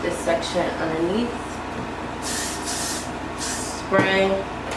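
Ethnicity hair spray hisses from a can in a few short bursts onto sections of a closure wig, close and fairly loud, between stretches of someone talking.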